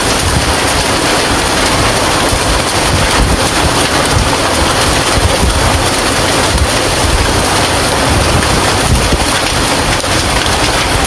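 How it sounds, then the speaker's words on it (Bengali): Heavy rain mixed with hail in Sylhet makes a loud, unbroken roar with gusty wind, steady and close for the whole stretch. "দেখেন কত শিলাবৃষ্টি সাদা যেগুলো দেখতেছেন সবগুলো বৃষ্টি"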